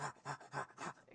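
A voice imitates two panting dire wolves with four quick, rhythmic breathy huffs, loud and close, with no talk around them.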